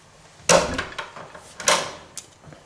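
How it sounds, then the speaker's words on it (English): A large closet door, about 5 feet deep, in a house being flipped swings shut with a close, moderately loud thud, followed by a second bump and a few faint knocks in a quiet room. "Let's close the door."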